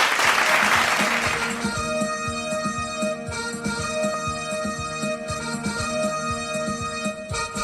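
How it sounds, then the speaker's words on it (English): An audience at a school Republic Day celebration in New Delhi applauds loudly for under two seconds. Then a patriotic song begins, with sustained melodic tones and a steady rhythmic beat. "Let's give a big round of applause"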